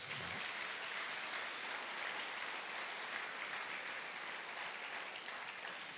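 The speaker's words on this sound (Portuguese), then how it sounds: "Vamos aplaudir a Ele." A church congregation applauds in a steady, sustained wash of clapping that fills the room at an even level throughout, with no voices standing out above it.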